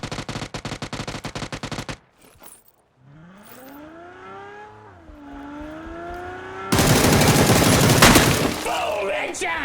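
PUBG video game gunfire, a rapid loud burst of automatic shots, then a quiet stretch with a rising and falling tonal whine, followed by another dense burst of fire and clatter.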